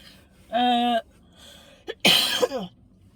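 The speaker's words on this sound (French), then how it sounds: "C'est pas possible hein, de tousser là." A few coughs and throat-clearing bursts with short pauses between, close and fairly loud in a quiet room.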